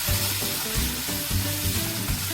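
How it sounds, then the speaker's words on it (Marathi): Yogurt being stirred into a fried rice mixture in a wok, heard as steady sizzling with soft scraping and stirring strokes, close up, with no talk. "हे दही देखील आपल्याला छान प्रकारे मिक्स करून घ्यायचे आहे"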